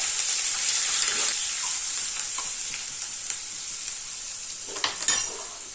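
Onion fries over high heat in a pan with crushed garlic, ginger, green chili, cumin and asafoetida, giving a steady, close sizzle with a few stirring scrapes near the end and no speech.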